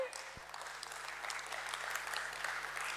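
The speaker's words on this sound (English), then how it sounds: "Let's welcome him with a huge round of applause" An audience in a hall at the BSE applauds with a steady, faint patter of many hands that holds evenly throughout, heard from a distance.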